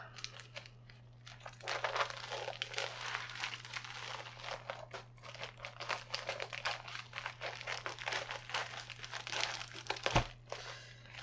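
A package wrapped in bubble wrap is opened close up, with continuous crinkling and crackling of plastic, irregular rustles and a soft thump near the end over a low steady hum.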